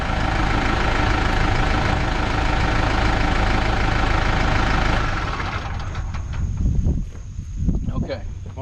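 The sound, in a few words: 2020 Case IH 75C tractor engine idling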